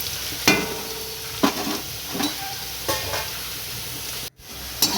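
Potatoes fry in hot oil in a village kitchen, a steady close sizzle broken by a few sharp stirring scrapes and clinks of the spatula against the pan, with no talk.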